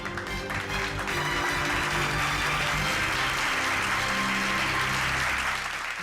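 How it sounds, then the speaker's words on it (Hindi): An audience claps loudly and continuously, with dense, steady applause filling the room alongside some background music tones for about six seconds. "बंद करो ये तालियां।"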